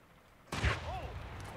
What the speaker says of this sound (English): Find out what triggered that explosion!